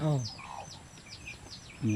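Chickens kept by a family in a mountain village, with soft clucks and chirpy calls through the middle and louder clucking bursts at the start and end, fairly close.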